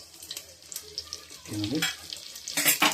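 Ingredients and whole spices such as nutmeg frying in a pan for tomato, potato and carrot rice, a continuous crackling sizzle with stirring scrapes, briefly under a faint voice and louder bursts near the end.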